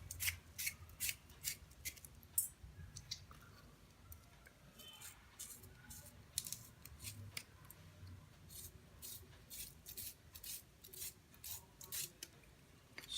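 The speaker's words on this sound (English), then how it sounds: "So for sharpening this pencil I am using the regular Apsara sharpener." A charcoal pencil is turned in a regular Apsara hand sharpener, giving faint, repeated scraping and crisp snips of the blade shaving wood in an uneven rhythm, close and quiet.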